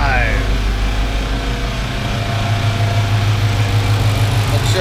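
A Ford Coyote V8 swapped into a Mustang idles steadily on its first start, a low continuous rumble that stays even and close throughout, with faint background noise over it.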